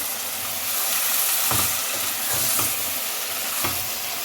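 Potato curry masala for aloo mongray fries in a pan with a loud continuous hiss and sizzle, and a few spaced scrapes from stirring roughly once a second, close up with no one talking.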